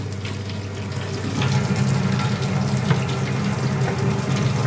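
A kitchen tap runs steadily as hands are washed under it, a loud, close splashing rush that grows fuller partway through as the hands move in the stream, with no talking.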